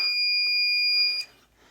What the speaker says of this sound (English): that is my primer alarm